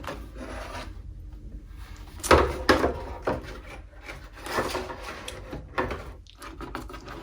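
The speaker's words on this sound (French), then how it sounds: "Nous allons enlever le plastique du dessus." Plastic packaging rustles and scrapes as it is pulled off a Hot Toys Bad Batch Hunter figure, with irregular crinkles and a few sharper rasping tugs, close by, no talking.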